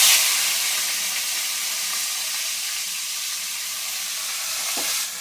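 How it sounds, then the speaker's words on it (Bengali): Onions fry with dried red chillies in hot oil, a loud, even hiss and sizzle that stays close and steady, with a brief stirring knock near the end. "পেঁয়াজগুলো আমি নেড়ে চেড়ে ভালো করে ভেজে নিই।"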